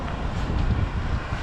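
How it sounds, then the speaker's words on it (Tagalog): Steady, broadband wind buffeting the microphone outdoors in freezing Canadian winter cold, a constant low rumble with no pauses and no other clear sounds. "Medyo may konting hangin."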